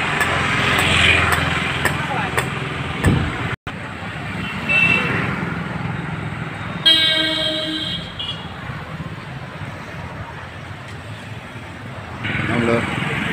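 Road traffic on a street on the way to a Satsang Thakurbari, with a steady wash of passing vehicles and a few short horn toots, up close, under someone talking.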